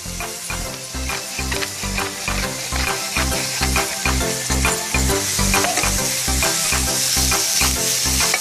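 Minced beef seasoned with pepper stir-fries in a preheated pan, loud continuous sizzling broken by rapid rhythmic scraping and stirring strokes throughout, with no voices.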